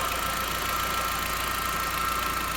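Car engine idling with the lights off, a faint steady hum with a light rhythmic mechanical ticking and a thin tonal whine, no voices.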